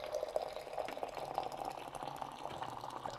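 Hot water tower at a coffee bar topping up a kettle for Stagg X pour-over brewing, a steady close rushing fill of water running without pause and with no talk over it.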